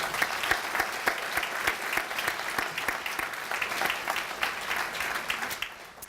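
Loud, dense audience applause fills a large crowd at the Health Heroes awards evening, steady clapping throughout that tapers off slightly at the end.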